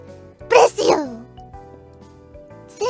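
A person sneezes once or twice in quick, loud bursts near the start, followed by quieter room noise and a faint voice at the end.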